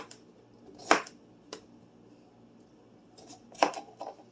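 A knife cuts potatoes into small pieces for a crock pot beef stew, giving a few sparse, crisp chops on a board, fairly close and quiet, with pauses between them.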